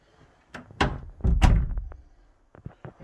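A slab door fitted with a newly installed knob and latch swings shut, giving a few close thumps and a latch click, followed by quieter rattles.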